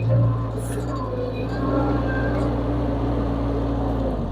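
A Vermeer mini skid steer rolls forward toward a log, its engine a steady close drone with a faint rise in revs, while someone talks over it throughout.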